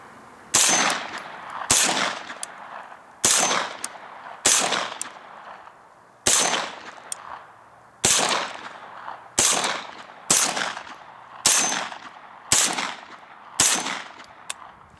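Outdoors, a Sterling 9mm semi-auto carbine with a broken firing pin fires a steady string of about eleven loud, evenly spaced shots, each a sharp crack with a short echoing tail.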